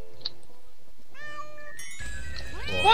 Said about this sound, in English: Why did you step on the dang cat again?